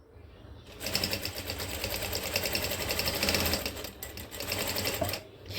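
A sewing machine stitches folded fabric in a beginner's lesson, its needle whirring in a steady, rapid run for several seconds, pausing briefly near the end, close and moderately quiet.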